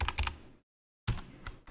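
Keyboard keys tapped while entering CAD sketch dimensions, a quick cluster of close clicks, a sudden silent gap, then another burst of clicks including the tab key.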